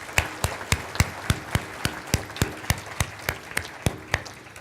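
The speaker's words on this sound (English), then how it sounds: "I'd like to give them another round of applause" Applause at a Parkinson's educational symposium, heard as steady, evenly spaced claps, like a few hands clapping in rhythm, fairly faint and continuing for several seconds with no talk.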